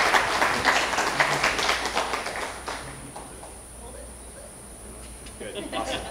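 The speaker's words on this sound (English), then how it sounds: "And another round of applause." Round of audience applause at a global health innovation conference session, steady moderate clapping from a seated crowd that gradually thins out, with faint voices underneath.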